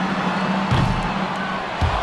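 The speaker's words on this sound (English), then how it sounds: "One more time, a round of applause for the participant." A crowd cheers and whoops in a large arena in NBA 2K25 during a fan half-court shot, with rising shouts and a few loud bursts over continuous background noise.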